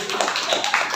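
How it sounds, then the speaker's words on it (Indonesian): A school class in Jakarta clapping hands together, a quick burst of dense, overlapping claps filling the room for a moment, close and fairly loud. "Udah, tepuk tangan dulu dong."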